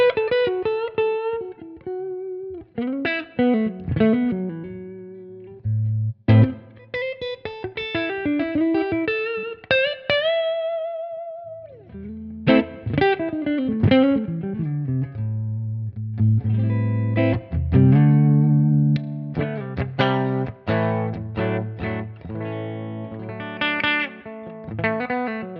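A Gibson Les Paul Standard on its neck pickup rings through a clean amp capture on a Tonex, played as a flowing mix of sustained chords and melodic single-note runs with light reverb, loud and close with no talking.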